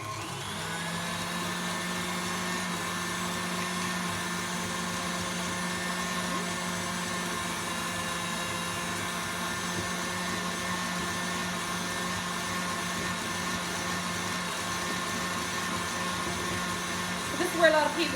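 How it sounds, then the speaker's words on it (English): Electric stand mixer running continuously to beat butter into a cake mixture, a steady even motor whine with no breaks, a small rattle near the end. "So I'm just going to turn my mixer back on."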